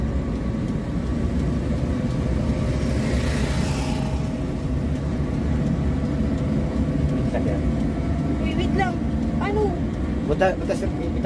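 A car engine accelerates during a driving lesson, a steady low rumble that holds evenly beneath near, continuous talk from the people inside the car.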